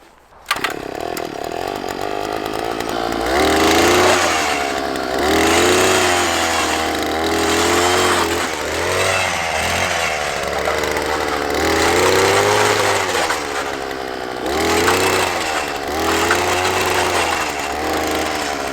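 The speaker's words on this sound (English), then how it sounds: "so we just drilled our hole" A power ice auger runs steadily on a frozen lake while it drills a fishing hole through the ice, its engine droning loud and near for the whole stretch and its pitch wavering as the load changes.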